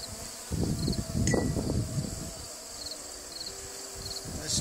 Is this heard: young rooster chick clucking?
no